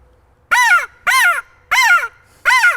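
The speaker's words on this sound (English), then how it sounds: "Or it could be the crow call, which is typically used later in the day" A turkey hunter's crow call gives four loud, harsh caws, evenly spaced and close, with silence between them.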